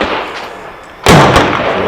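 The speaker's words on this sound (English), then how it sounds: "We're gonna be shooting at the top square" A single sharp gunshot from a 1911 pistol at an outdoor shooting range, cracking loud and close about halfway through with a brief reverberant tail after quiet background.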